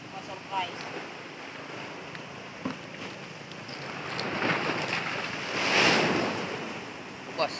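Strong ocean waves on a shoreline where gooseneck barnacles grow, rumbling surf that swells into a loud crash near the end, with wind buffeting the microphone and a few faint background sounds.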